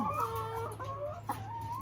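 Laying hens kept on a small farm cluck in a steady stream of short, overlapping calls, fairly close, over a low constant hum, with no talking.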